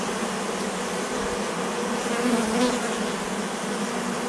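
A honey bee swarm clustered on a fir branch gives off a dense, steady buzzing drone with no pauses. Many bees hum together at close range, with no voices present.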